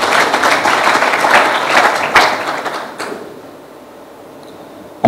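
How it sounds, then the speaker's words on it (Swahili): Applause from an audience at a sponsorship announcement, a dense burst of clapping that stays strong for about two seconds, then thins and fades into quiet room tone. "Makofi mengi tafadhali."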